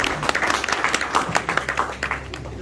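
An indoor audience at a Pakistani Independence Day poetry gathering in London claps for a guest, with a dense burst of applause from many hands that fades slightly toward the end.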